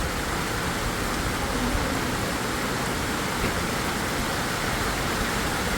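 Steady rain falls on a rainy day as a dense, even hiss that holds at one level throughout, with no voices heard.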